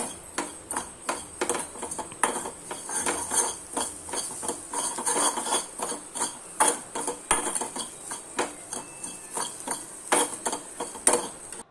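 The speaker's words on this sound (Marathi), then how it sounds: "आणि सांबार, खोबरा किस आणि मिरचीचा पेस्ट, खाकस, लसूण जिरा पेस्ट छान भाजून घेऊया." A spoon scrapes and stirs grated coconut, chilli paste, poppy seeds and garlic-cumin paste roasting in a pan for coriander vadi, making steady close clicking and scraping strokes throughout with only a faint background hiss.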